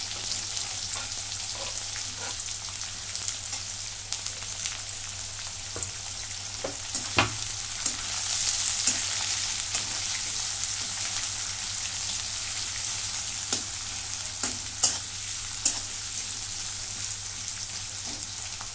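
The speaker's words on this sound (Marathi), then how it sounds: "आता कांदा मऊ होईपर्यंत मी भाजून घेतलेला आहे." Sliced onion frying in a pan until soft for a bitter gourd stir-fry, giving a steady broadband sizzle throughout with occasional sharp clicks and stirring scrapes, no voices.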